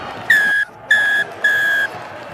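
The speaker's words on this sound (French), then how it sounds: "monsieur l'arbitre qui siffle la fin de ce match" Three sharp referee whistle blasts, each about a third of a second with short gaps, loud and clear at the end of a Nationale J23 rugby match between RC Narbonnais and Blagnac, over faint crowd background.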